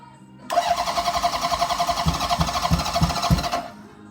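A Honda CB750 motorcycle engine, smelling of fuel on a jailbreak project bike, runs with the clutch dropped and no throttle: a loud, close, rough idle with a rapid pulsing beat that starts abruptly and cuts off after about three seconds.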